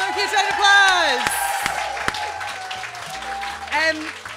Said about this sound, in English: Give them a huge round of applause.